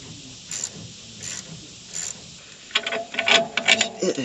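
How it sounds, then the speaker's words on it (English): A wrench tightens bolts on corn harvest equipment: three short raspy clicking bursts at a steady pace, then a busier run of louder metallic ratcheting and clatter, close by. "I guess I'm gonna try to tighten these bolts up right here to make it pull up tighter."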